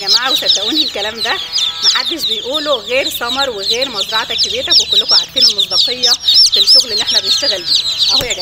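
Fayoumi chicks and roosters on a poultry farm cluck and cheep constantly in a dense, loud flock, high peeping chicks layered over rougher clucks, while someone talks steadily over them throughout.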